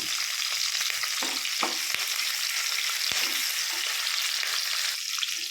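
Capsicum frying in a spoonful of oil in a pan, a steady close sizzle with occasional stirring scrapes and taps, no voices.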